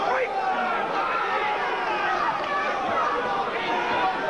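A boxing crowd at an Ojay Abrahams versus Wayne Alexander rematch keeps up a constant roar of chatter and cheering, dense and steady throughout with no single voice standing out.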